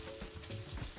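Eggy rice frying in a pan with garam masala spices, a short burst of close, steady sizzling and crackling with no voices.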